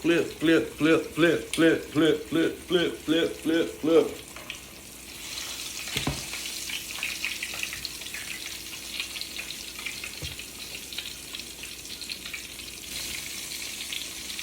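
Pork chops sizzle and fry in a pan after being flipped, a steady close crackle of hot fat that follows a run of rhythmic scraping or stirring strokes.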